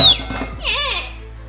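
A chattering lory parrot screeches in a kitchen in reaction to pots being clattered, giving a short sweeping raspy call after some brief clanks, fairly close and loud.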